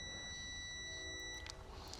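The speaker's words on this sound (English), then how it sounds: "You can tell it has continuity just based on the alarm here on my meter." A multimeter's continuity alarm sounds as a steady, high electronic beep for about a second and a half while checking the neutral-ground bond on a Predator 11500 generator, then cuts off, leaving faint handling noise.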